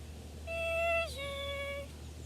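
A person whistles an imitation of a black-capped chickadee call: two clear, pure tones, the first held higher and the second dropping slightly lower, sounded alone against quiet background hum.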